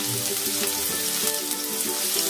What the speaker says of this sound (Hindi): प्याज मैंने डाल दिया है पैन में, और हम इसको थोड़ा हल्का सा भूनेंगे